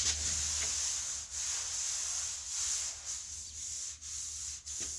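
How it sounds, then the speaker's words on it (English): Long board sanding hardened body filler on a car panel, continuous close rasping strokes with brief dips at each change of direction, steady and loud, with nobody talking. "then I'll board it with a long board and that'll just nail it"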